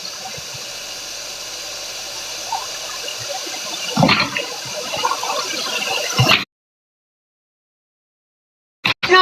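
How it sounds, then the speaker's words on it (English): Tap water pours steadily while dishes are washed, a continuous rushing hiss with a couple of clunks, then it cuts off abruptly before a brief final splash. "I wash all dishes with the tap"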